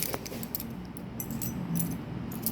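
Keys jangling while someone tries a key in a lock: light metallic clinks and rattles, close by, in irregular bursts over steady background noise, with no voices.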